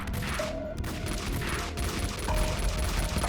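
Gunfire in Max Payne 2 crackles in a steady, dense fusillade of rapid shots throughout, loud and busy, with a brief tonal game sound layered over the barrage.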